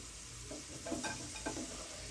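Okra snack deep-frying in hot oil until crisp, a faint steady sizzle with a few brief bubbling bursts and light stirring clinks, quiet and close.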